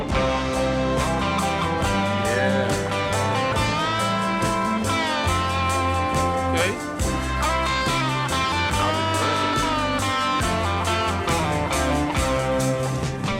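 Dense full-band rock recording with drums, bass and a lead electric guitar solo bending and weaving above the mix throughout; no speech.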